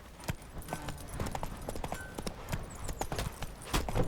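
Horse hooves clip-clop in a steady walking rhythm in The Witcher 3 video game, fairly quiet and continuous across the moment, with no voice over them.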